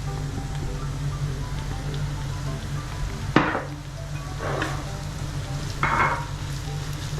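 Masala spices (coriander powder, garam masala, pepper powder) fry in oil in a pan for Kerala-style fish molly, a steady close sizzle with a few brief louder bursts of hiss as the mixture is stirred.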